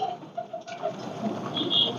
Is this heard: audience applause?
no